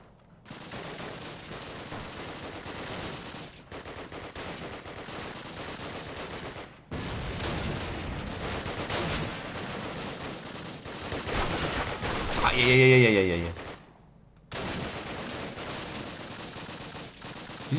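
Gunfire in Call of Duty 1 comes in repeated bursts and single sharp shots spread through the scene, loud and close at times, with a few pauses between volleys.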